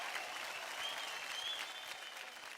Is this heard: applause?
yes